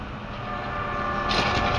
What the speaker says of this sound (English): the blasting of these train horns right